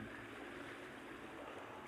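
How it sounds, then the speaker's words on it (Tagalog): Steady, quiet wash of ocean surf rolling in continuously on a seashore, a soft broadband rush with no distinct breaks. "Yung hampas ng alon, bawat hampas ng alon,"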